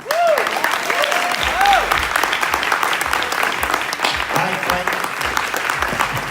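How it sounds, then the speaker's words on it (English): An audience claps steadily after a talk at a show, the dense applause continuing throughout with a few voices calling out over it. "Let's give her a stand of applause."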